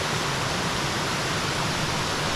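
Waterfall heard from right inside the falls, a loud, steady, broadband roar of crashing water filling the whole stretch, with no voices.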